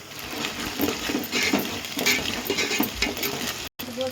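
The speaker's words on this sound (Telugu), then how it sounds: "ఇలా గోంగూర వేసేసుకొని ఈ నూనెలో మనం మగ్గనివ్వాలన్నమాట." Gongura leaves and onion frying in oil with ginger-garlic paste in a pan, a steady close sizzle with stirring scrapes throughout, briefly cutting out near the end.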